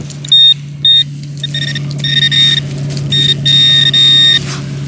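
Repeated high-pitched electronic beeps from a metal detector, some short and some held longer, in irregular bursts over a low steady hum.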